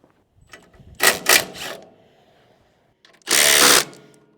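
A power tool whirs in short bursts, two quick pulses and then a longer run, as a power feed unit is bolted onto a sawmill.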